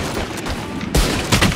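Gunfire in Valorant, a couple of sharp loud shots close by, with one strong burst near the middle and another shortly after, no voices.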